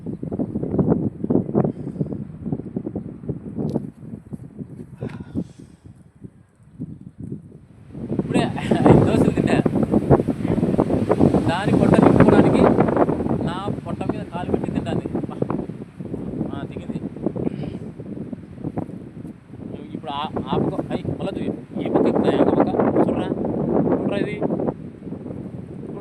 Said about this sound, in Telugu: ఈదురు గాలి ఎక్కువైంది